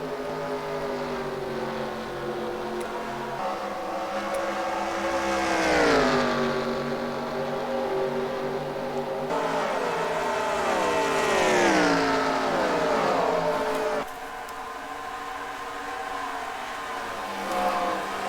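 A pack of race cars at Pocono in a sim race drones past with steady, loud engine tones that sweep down in pitch twice as the cars pass, layered in a continuous roar.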